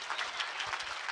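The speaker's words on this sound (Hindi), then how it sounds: "जोरदार तालियां" Applause from an audience at a school annual function rings out briefly, a dense patter of clapping heard on its own at moderate loudness.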